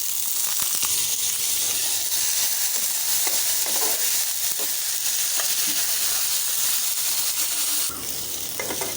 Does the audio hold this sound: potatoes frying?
yes